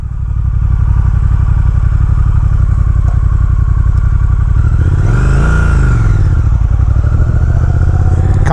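A 2020 Triumph Speed Twin motorcycle engine and exhaust thrum loudly and steadily up close, with a pulsing low rumble and a brief swell of revving in the middle.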